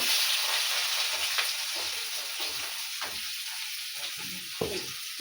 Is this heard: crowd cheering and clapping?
no